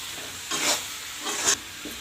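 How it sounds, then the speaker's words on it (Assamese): Potatoes and chicken fry in a pan, with a soft background sizzle and two distinct bursts of stirring and scraping about a second apart. "ভাজি আছোঁ আমি।"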